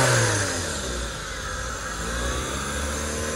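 A black Suzuki X Over car's engine runs at a used-car auction lot, a loud, steady mid-pitched drone that eases slightly and then builds again, with no voices.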